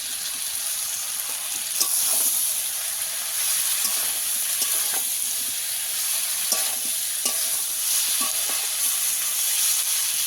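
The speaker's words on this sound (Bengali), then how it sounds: "এবার সজনে ডাঁটাটাকেও দিয়ে দেবো।" Moringa drumstick pieces go into potatoes frying in hot oil for a shol fish curry, giving a steady, close sizzle with scattered stirring scrapes and clacks throughout, no talking.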